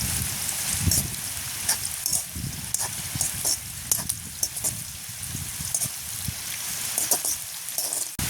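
Garlic crackles and sizzles in hot oil in a pan during village cooking, with a dense rain-like spatter broken by repeated scraping stirs close by.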